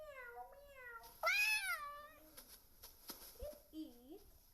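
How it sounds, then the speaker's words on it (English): A cat meows in a kids' augmented reality learning app, with a few rising and falling meows at moderate volume and softer background sounds around them. "The cat says meow meow."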